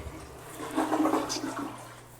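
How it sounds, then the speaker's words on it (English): A household toilet flushes in a short-term rental bathroom being cleaned, a single rushing swell of water that builds and gurgles for about two seconds, close and alone with no talk. "Just like to flush it."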